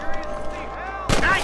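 A single sharp gunshot from the western video game Red Dead Redemption, a loud close crack with a short tail, following a brief stretch of game voice and background music.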